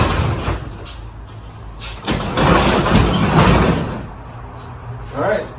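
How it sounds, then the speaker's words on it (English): A Torquemaster-spring garage door lifted by hand, giving a loud rolling rumble and rattle that swells and fades as the panels travel, close by and with no talking over it. "we can just lift the door and see if it'll stay in place"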